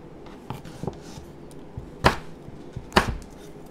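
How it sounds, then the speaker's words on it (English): A knife chops a pear into bite-sized pieces on a board, a few soft taps followed by two sharper, louder chops, close by and with no talking. "I'm gonna chop it into bite-sized pieces"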